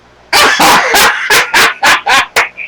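Several dogs bark in a rapid run of about eight loud, close, sharp barks during a scuffle, the last one trailing into a short higher yip.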